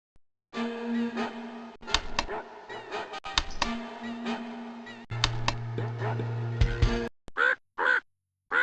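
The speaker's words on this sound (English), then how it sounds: "Corvus, the crow." A crow in a 1996 Little Golden Book interactive story game gives a series of harsh, buzzy caws, repeated close and loud over several seconds, ending in a few short separate calls, with no talking.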